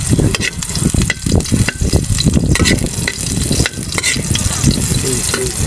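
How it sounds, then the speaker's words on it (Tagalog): Garlic and onion frying in hot oil, a loud, close crackle and sizzle with constant stirring scrapes and bubbling, continuous throughout without speech. "mainit na siguro po itong ating mantika dahil sabay ko yung bawang at sibuyas."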